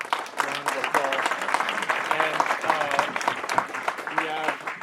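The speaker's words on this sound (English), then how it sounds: "Let's give our panel a huge round of applause." An audience at a live panel event applauds steadily, a dense patter of clapping from many hands running throughout, with a voice speaking over it.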